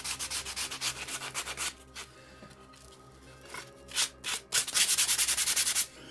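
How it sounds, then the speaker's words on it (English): Sandpaper is rubbed by hand over the top of a Spiderman 3D print to remove leftover support bits. The rasping strokes come close and in quick rhythmic bursts, with a slower, quieter stretch in the middle. "I'm just going to take my sandpaper as well on the top of this"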